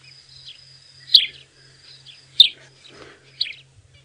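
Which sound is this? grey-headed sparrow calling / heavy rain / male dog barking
grey-headed sparrow calling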